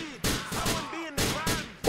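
Gunfire in a GTA IV shootout, a few sharp bursts of shots in quick succession, loud and close, with faint in-game chatter between them.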